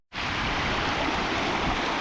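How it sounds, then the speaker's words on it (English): A small waterfall in a glen in Scotland, its water dropping down, makes a loud, close, steady broadband rush that begins abruptly and holds evenly throughout, with no voices. "we've made it to this little waterfall here up in the glen. The water drops down"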